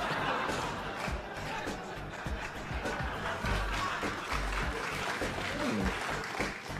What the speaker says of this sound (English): A slow gathering applause.